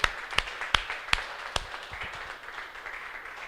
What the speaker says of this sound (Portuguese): Palmas ao Espírito Santo que reconhece Ele em nosso meio.